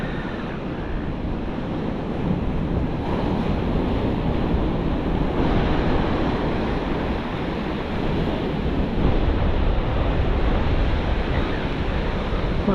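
Ocean surf rolls and breaks continuously on a beach at a fishing spot, a loud, steady wash roughened by wind buffeting the microphone, with no talking.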